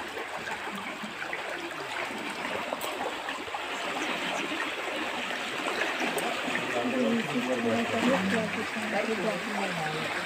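Floodwater from a dam release rushes steadily through a village canal, a constant broad wash of flowing water that grows slightly louder toward the end, with a faint low murmur of voices beneath it.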